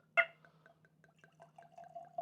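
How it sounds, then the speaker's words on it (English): Bourbon whiskey pours from a bottle after a sharp opening knock, a faint series of soft glugs and drips followed by a quiet thin trickle, close and intimate. "Listen to that glug."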